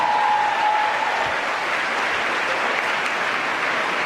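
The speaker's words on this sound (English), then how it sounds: "Let's give him a big round of applause." A crowd at an awards ceremony claps steadily, a thick and sustained burst of applause with no pauses and no voices.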